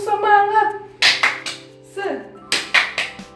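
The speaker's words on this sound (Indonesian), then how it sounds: "Mari kita tepuk semangat." Classroom of schoolchildren performing a rhythmic 'tepuk semangat' clap chant: a teacher's voice leads, then bursts of group clapping fall in short patterned clusters between sung or shouted syllables, bright and close.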